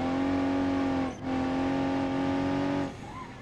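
A simulated all-wheel-drive car engine in BeamNG.drive on a Pikes Peak run drones steadily and loudly, briefly dipping once before holding its pitch, then fading toward the end.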